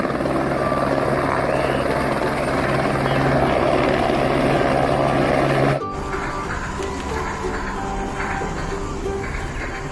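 A helicopter's steady, loud rotor and engine roar drones throughout, dropping slightly in level about halfway through and then continuing without a break.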